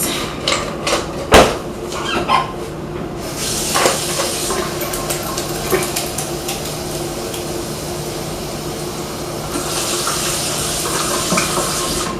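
A kitchen water tap runs into a glass, a steady splashing stream that starts after a few sharp knocks and clatters, loud and close with no talking.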